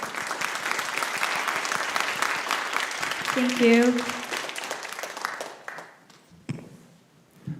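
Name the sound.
applause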